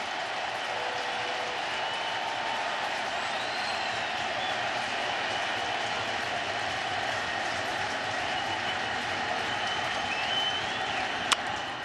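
A baseball crowd at Citi Field during a Mets–Phillies playoff game keeps up a steady, distant roar of cheering and noise under a broadcast, with a sharp click late on.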